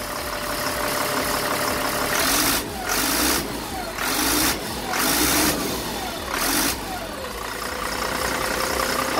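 A diesel engine on an Abel LMTV truck revs repeatedly after a governor throttle adjustment, several short rises in pitch over a steady close idle, with no voices.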